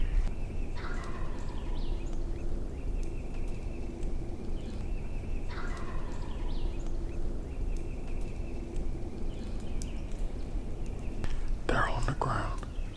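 Several wild Osceola turkeys gobble in a foggy public-land hunting area, with three or four loud, rolling bursts spread across the stretch over steady outdoor background noise, the last one sharp and close.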